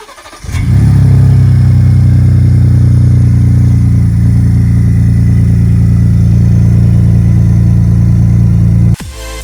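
A Gen 2 Ford Raptor truck engine with new cam phasers idles steadily and loudly close by. After a brief rise it holds a constant low rumble for about eight seconds, then cuts off abruptly.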